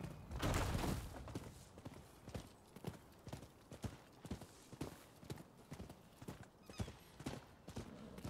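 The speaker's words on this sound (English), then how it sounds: "Let's call our horse." A horse in the video game Rise of the Ronin gallops with a steady, close clip-clop of hooves, joined by a brief whinny, the hoofbeats running on throughout.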